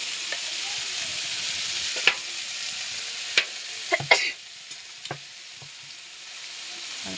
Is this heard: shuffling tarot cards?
no